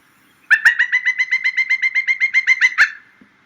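Wild bird in winter giving a rapid rhythmic trill of about twenty bright chirps over two seconds, clear and close, with no talk over it.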